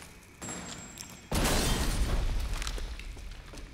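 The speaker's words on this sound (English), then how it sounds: "I wasted a fucking pipe bomb" A pipe bomb detonates in Resident Evil Village: a sudden loud, close blast that breaks into a long, rumbling roar and slowly fades over a few seconds, after a quieter lead-in.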